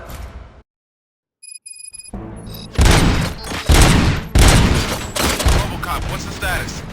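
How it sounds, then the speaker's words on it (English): Gunfire in the RoboCop: Rogue City video game erupts after a brief silence, a loud run of rapid shots and heavy bursts that keeps going to the end. "Gunshots? What's going on?"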